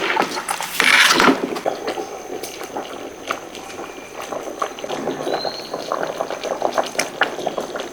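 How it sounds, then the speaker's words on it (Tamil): A thick beef nalli curry gravy with ground coconut bubbles and boils steadily in a pot, with soft popping and a brief clatter near the start. "தேங்காய் அரைச்சி ஊற்றி சும்மா தள்ளன்னு கொதிச்சு ரெடி ஆகிருச்சு."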